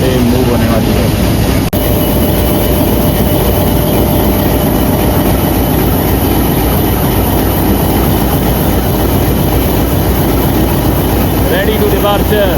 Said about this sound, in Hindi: सफारी टूरिस्ट स्पेशल ट्रेन यहाँ से अभी मूव होने वाली है।